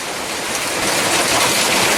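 Heavy rain at an outdoor camp makes a loud, continuous rushing wash that builds slightly over the couple of seconds, close and unbroken, with no speech.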